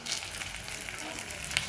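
Curry leaves with mustard seeds, urad dal and cumin frying in hot oil in a pan, a brief steady crackling sizzle, fairly quiet and close, with no talking.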